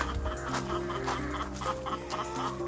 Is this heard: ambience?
no